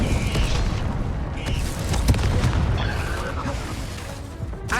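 The Confringo fire spell explodes in Hogwarts Legacy, a dense, rumbling blast with crackling bursts and mechanical clatter, loud and continuous with a few sharper pops.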